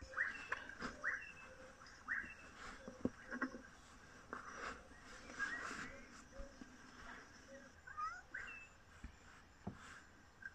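Birds chirp and call outdoors on a dewy morning, a scatter of short bright notes and trills at moderate distance over a soft ambient background, with no one talking.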